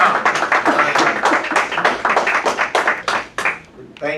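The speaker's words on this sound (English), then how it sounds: "Give him a round of applause, Minister Ishmael Muhammad, as he comes." Warm applause from an audience greeting Minister Ishmael Muhammad at a Million Man March anniversary gathering in Tuskegee, steady dense clapping for about four seconds that thins and fades near the end, with faint voices underneath.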